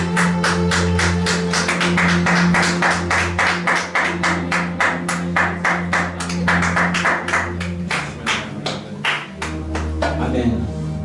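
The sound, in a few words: congregation clapping and applauding during church service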